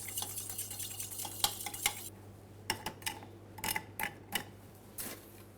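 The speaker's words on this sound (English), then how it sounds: "Before I start shaking it, I'm going to give a little stir to dilute the castor sugar." A cocktail of lime cordial and caster sugar is stirred in a mixing glass, giving a series of faint light clinks and taps, some spaced and some in quick pairs, with no talk.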